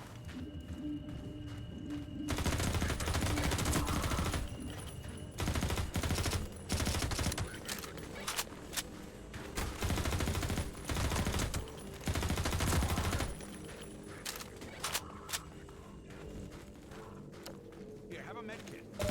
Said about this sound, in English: Also, what is this? Machine gun.